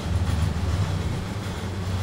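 Train running on the Arosa line from Arosa down to Chur in Train Sim World 3: a steady, loud low rumble of the running train with faint clatter, continuous throughout.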